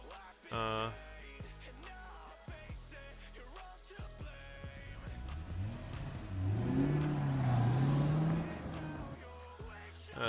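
A car engine in a video game revs up and roars louder, rising in pitch as the car peels out hard, with scattered clicks and tones around it.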